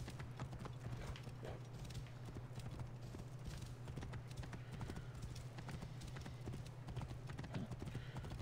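Horse hooves gallop in Assassin's Creed Origins, a rapid, steady clip-clop rhythm running throughout over a low constant hum, fairly close and even in level.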